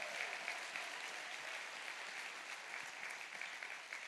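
Steady, dense applause from a church congregation clapping for the sound crew, a broad even wash of hands lasting the whole stretch at moderate distance with no talk over it.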